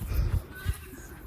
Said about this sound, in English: goat is over here. I think he's got an itch.